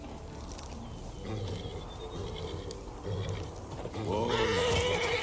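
Horses in The Witcher 3 give a neigh near the end, a loud whinny with a rising and falling pitch, after a stretch of quieter ambient game sound.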